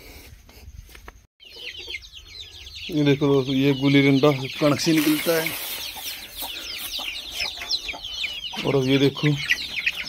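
Desi rooster clucking on a small backyard poultry farm, a run of repeated harmonic clucks in the middle and another short burst near the end, with someone talking over and between the calls.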